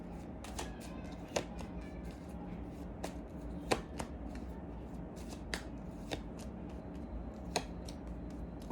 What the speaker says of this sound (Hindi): ठीक है, कार्ड्स निकालते पहले।